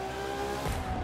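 A Créator Tempesta hypercar in The Crew 2 braking hard, a brief tire-squeal and engine whine that drops off abruptly, loud and close, with no talk.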